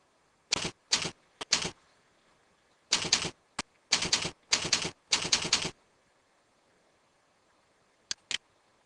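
Bursts of computer keyboard typing, several quick clusters of keystrokes with brief pauses, then two sharp isolated clicks near the end, close and clear against a quiet background.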